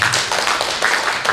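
Conference attendees in Dobong give a burst of close, brisk hand clapping, a continuous patter of many hands filling the room.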